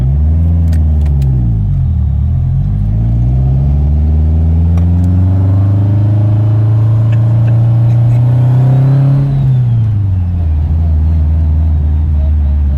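A rally car engine revs loudly and steadily, pitch climbing and holding before dropping away, with a deep rumble throughout.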